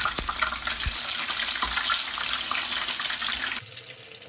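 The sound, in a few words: Thai omelette with minced pork frying in a pan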